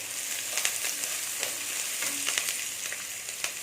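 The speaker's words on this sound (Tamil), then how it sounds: "நான் ஒரு மூணு பச்சை மிளகா கட் பண்ணி போடுறேன்" Green chillies sizzling in a pan of hot oil while cooking raw banana podimas, a steady close frying hiss with a few sharper crackles and pops scattered throughout, no talking.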